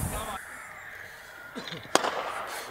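A cricket bat striking the ball in an outdoor game, one sharp crack rising briefly above a background of voices and open-air noise.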